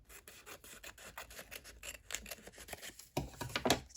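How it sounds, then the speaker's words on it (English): Scissors snipping and rubbing through a folded paper piece for a junk journal, a run of quick close crisp cuts with soft rustling, growing louder near the end. "And then I might just cut this out"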